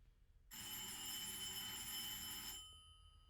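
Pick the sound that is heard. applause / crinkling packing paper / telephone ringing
telephone ringing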